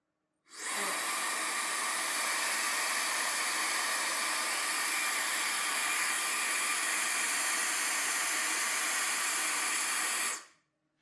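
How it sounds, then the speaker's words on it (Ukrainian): A Cecotec IoniCare Rockstar Nano hair dryer runs its self-cleaning function: a steady, loud hissing rush of air starts abruptly, holds evenly for about ten seconds, then cuts off. "фен самостійно очищає себе від пилу та волосся"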